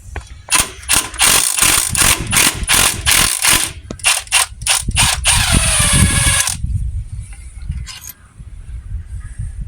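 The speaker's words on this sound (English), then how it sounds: "he's taking out the bolts to take out the intercooler pipe that this Ford came with stock" Someone removes bolts from the stock intercooler pipe of a 2008 Ford F350 with a 6.4L engine, using a ratchet that clicks in rapid, loud bursts up close, followed by quieter rattles.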